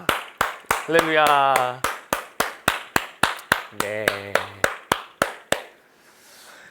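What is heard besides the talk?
congregation clapping in church service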